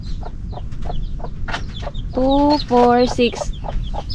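Near cheeping of a chick in a rural outdoor setting, a few rising peeps among clucking chickens, with people talking and counting throughout.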